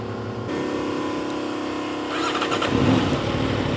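A 2026 Aprilia RSV4 Factory motorcycle engine cranks and catches, settling into a steady close idle before the revs rise into a louder, rougher growl.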